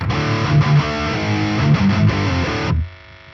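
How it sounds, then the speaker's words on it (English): A short burst of electric guitar through a Boss 200 series overdrive pedal with a noise gate, gritty sustained notes shifting pitch, then cutting off abruptly into near silence. "this is the sound of the overdrive."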